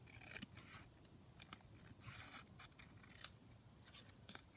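Scissors trim a stiffened fabric pocket piece in a series of faint, crisp snips, close but quiet.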